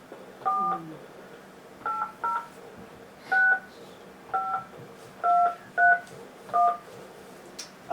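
Touch-tone telephone dialing beeps, a run of about ten short DTMF tones in irregular rhythm, clear and close against a quiet room with faint background murmur.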